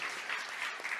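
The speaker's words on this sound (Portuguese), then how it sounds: "Você pode aplaudir o Senhor." A church congregation claps together in a brief, dense burst of applause, many hands at once, fairly close and filling the room.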